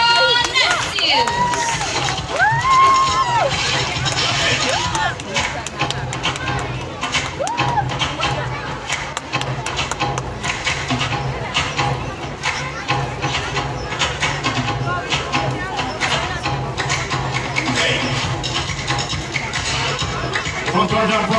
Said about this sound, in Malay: Kita berikan tepukan yang gemuruh untuk Jeneka Nesius.